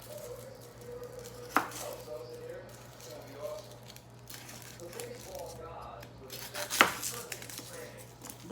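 A knife chops garlic on a board in a home kitchen, with two sharp, distinct chops several seconds apart over a quiet background hum and faint movement.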